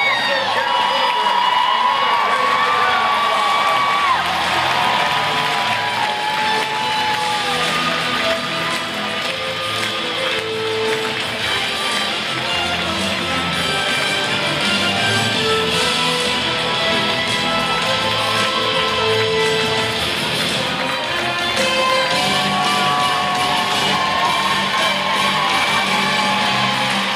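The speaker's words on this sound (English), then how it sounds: "That is a round of applause." A seminar audience gives a long round of applause with cheering and whoops. The clapping is dense and loud and fills the room without pause.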